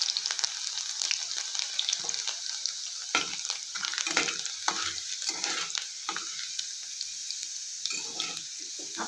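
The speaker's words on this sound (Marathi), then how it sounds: "इथे आपलं तेल गरम झालंय, त्याच्यामध्ये आता मी लसूण घालून घेते व थोडेसे जिरे" Garlic and cumin frying in hot oil for a fenugreek-leaf dish, a continuous crackling sizzle with brisk stirring scrapes and spatters, close and steady, with no one speaking.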